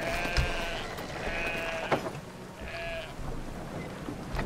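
A sheep in the game Brothers: A Tale of Two Sons bleats in a few short, wavering calls over a steady rumbling outdoor ambience, moderately faint and with no one speaking.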